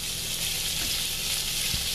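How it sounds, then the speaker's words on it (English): Steady, bright sizzling of bite-sized, slightly frozen chicken pieces frying in a hot pan, a continuous crackle with faint clinks underneath. "So this is sizzling."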